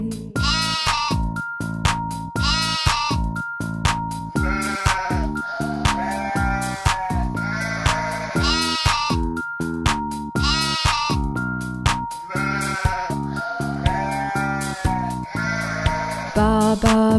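Sheep bleats are mimicked by voices in a Mandarin children's nursery rhyme song about a farm, repeating in rhythmic, sung baa-like calls over a loud, steady musical backing.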